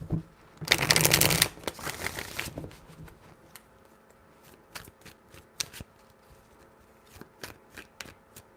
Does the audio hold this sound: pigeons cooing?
no